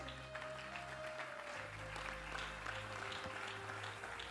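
A church congregation breaks into sustained applause, a dense, steady wash of many hands clapping in a large hall, moderately distant and even in level throughout.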